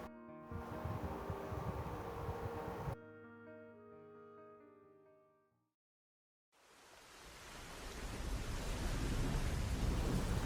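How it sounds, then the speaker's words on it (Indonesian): Heavy rain with rumbling thunder sets the scene of a spoken story, loud and continuous at first, fading into a brief hush, then returning as a dense, steady downpour. "Hujannya kapan berhenti sih?"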